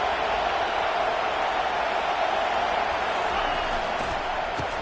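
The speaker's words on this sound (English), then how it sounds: "Listen to this crowd just shaking the girders of this place trying to help their defense." A stadium crowd roars continuously in the College Football 25 video game, a dense, steady wash of cheering noise at even volume across the whole stretch.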